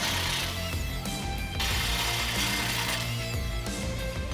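A hand ratchet fitted with a 9/16 socket works rusted exhaust clamp bolts on a 2005-2009 Mustang V6, giving bursts of rapid clicking pawl strokes with brief pauses between, close and fairly quiet with no talk.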